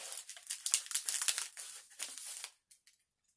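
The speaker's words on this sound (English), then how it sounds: "fold it up like that, and then tape it down" Foam padding is folded and taped down on a shipping package for glass items, giving close, busy crinkling and rustling with a quick tearing edge, then stopping into near silence.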